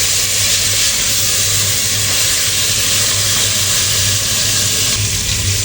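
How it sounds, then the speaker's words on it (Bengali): Chicken meat for a Peshawari-style chicken biryani fries in a pan at home, giving a loud, steady sizzling hiss that runs on evenly without pause. "মাংসটা কিছু সময় নিয়ে একটু ভেজে নেবো হালকা করে"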